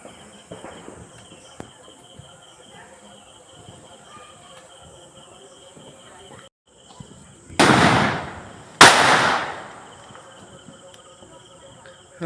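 Firecrackers going off during a Diwali celebration: two loud, sharp bangs a second apart with rattling tails, over faint background voices and insect chirping.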